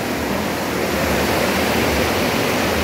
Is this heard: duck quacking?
no